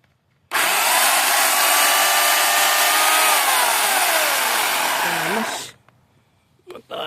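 Power saw cutting through a tree, a loud continuous roaring whine held steady for about five seconds, its pitch dropping as the blade bogs into the wood before cutting off, with faint movement noises afterward.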